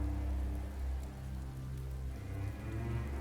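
Steady rain falls over a city in StarCraft 2, a continuous dense hiss of drops on surfaces that stays loud and even throughout, with no talk.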